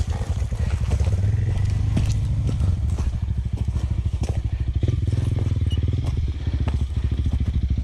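The engine of a new Honda CRF300L motorcycle runs close and loud, with a rapid, even thumping pulse throughout.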